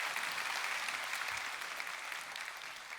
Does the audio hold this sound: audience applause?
yes